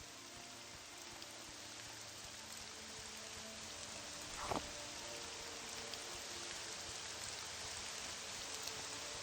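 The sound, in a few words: rain falling in the video game Morrowind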